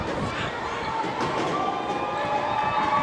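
Background crowd noise at an MPBL basketball game between Sarangani and Bacoor, a steady murmur of spectators under commentary voices.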